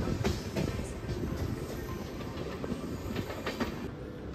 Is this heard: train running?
yes